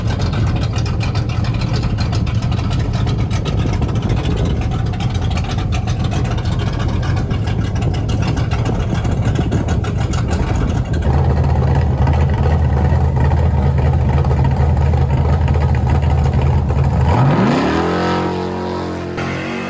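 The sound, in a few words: drag racing cars with 3,000-4,000 horsepower engines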